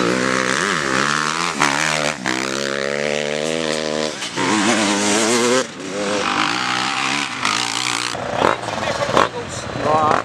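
A Kawasaki KXF 250 motocross race bike engine revs up and down in rising and falling sweeps, loud and close throughout.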